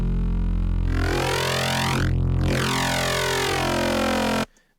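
Sharp neuro FM bass synth patch built in GMS within FL Studio 12, oscillators set to zero detune, sustaining a loud dense buzzing tone for over four seconds with sweeping, swirling harmonics before cutting off abruptly.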